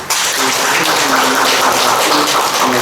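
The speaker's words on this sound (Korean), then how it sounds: "우리 송원 스님께도 박수 한번 했죠." An audience at a Buddhist temple Dharma service applauds for a monk, steady dense clapping from many hands filling the room at close range throughout.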